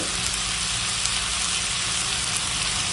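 Sautéing mutton with turmeric powder in a pan, a loud, dense, unbroken sizzle and crackle held close throughout, with a low background rumble and no talking.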